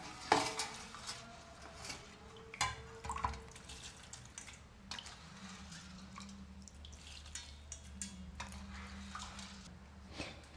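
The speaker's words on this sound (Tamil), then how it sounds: "நல்ல வடிவாக உளுந்தோடு சேர்கிற மாதிரி கலந்து விடுவோம்" Soaked rice and urad dal are mixed in a bowl with wet squishing and sloshing, punctuated by clinks of a utensil against the bowl. The sound is close and irregular, and no one speaks.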